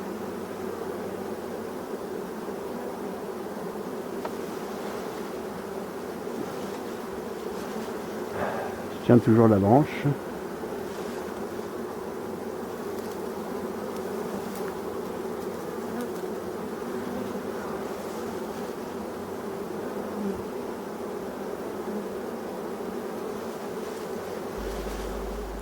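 A swarm of honey bees hums continuously and close up while clinging to a branch, a dense steady buzz with a brief louder burst midway as someone speaks quietly in French over it.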